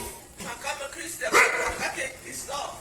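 A dog barks a few times at moderate distance amid a tense police scene, the barks mixed in with overlapping voices and background commotion.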